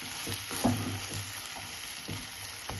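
Onions seasoned with salt and chili powder frying for chitranna give a close, steady sizzling hiss, punctuated by a few light stirring clicks and scrapes over nearly three seconds.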